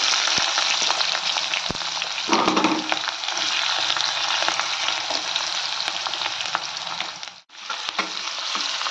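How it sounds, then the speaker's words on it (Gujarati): Onions sauté in a pan with curry leaves and hing, giving a dense, even sizzle with stirring noises. It stays loud and close throughout, broken once by a brief dropout near the end. "ડુંગળી ગોલ્ડન બ્રાઉન થાય ત્યાં સુધી આપણે સાતળી લઈશું"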